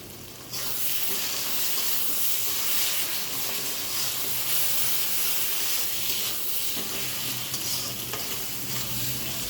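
Spiced masala and tomatoes are stirred and sautéed in a hot pan for a goat head curry. Loud, continuous sizzling and hissing starts after a brief pause, with occasional scraping from the stirring.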